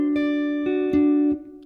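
Electric guitar riff from a song, a few clean sustained notes picked off the beat with ringing overtones, close and alone.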